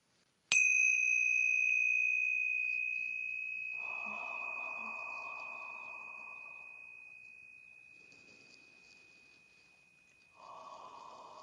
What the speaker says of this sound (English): I'm going to ring the tincture bells